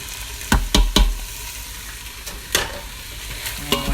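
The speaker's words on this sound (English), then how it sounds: "chickpeas have been frying for about 5 minutes or so" Chickpeas crackle and sizzle in a pan while a utensil scrapes and clacks against it in several sharp strokes, close by.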